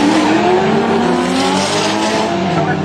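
Race cars roar along a circuit in a close pair, engines loud and steady with rising pitch and a hint of tire squeal, filling the whole stretch without any talk.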